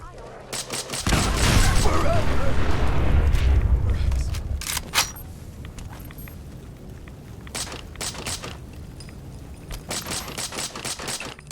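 Gunfire in a firefight in the video game Fallout 4: a loud burst of rapid automatic fire and rumbling blasts, then scattered single shots and clicks trailing off, with a voice calling out over the start.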